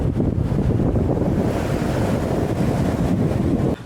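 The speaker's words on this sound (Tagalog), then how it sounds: "Grabe yung alon." Big ocean surf crashes at Parrot Rock in Mirissa, Sri Lanka: a continuous loud roar of breaking waves mixed with heavy wind buffeting the microphone, no speech.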